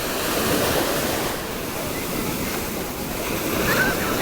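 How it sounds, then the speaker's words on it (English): Ocean waves on a Hawaii beach, a steady near surf roar rising and falling, with wind across the microphone. "sound of the waves and the water"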